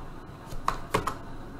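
Computer keyboard keys clicked a few times in quick succession, ending on a firmer press of the enter key, close and fairly quiet with no talking.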